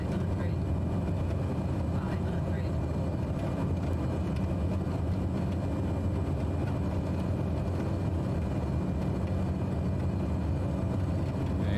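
A steady, dense aircraft engine roar fills the cabin of an airplane landing in strong wind near a hurricane, constant and loud throughout, with speech mixed into the noise.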